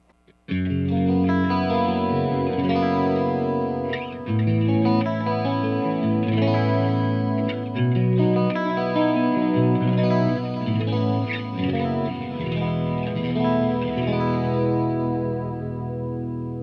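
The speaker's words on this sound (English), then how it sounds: "That is a really, really nice, beautiful, very musical clean channel." Electric guitar played through the clean channel of an Engl Fireball 100 amp with a coil-tapped pickup and the bright switch off, ringing chords and arpeggios with chorus-like shimmer, steady and full, alone for over sixteen seconds.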